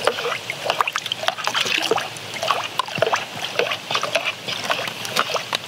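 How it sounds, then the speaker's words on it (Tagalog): Hands being washed with running water during a break in spraying a calamansi farm, a steady splashing and trickling close by for several seconds, with no one talking. "Maghuhugas ng kamay ha."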